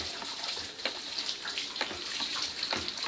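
Water splashes and trickles as it is poured and stirred into a lime mushroom substrate mix, with wet sloshing and small drips close by, no talking.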